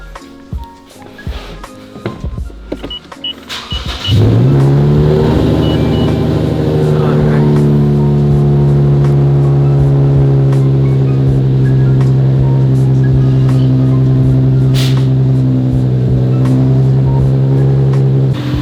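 A car fitted with air suspension and shortened spindles starts after some faint handling noises, then its engine settles into a loud, steady idle hum that runs unbroken and close for the rest of the stretch.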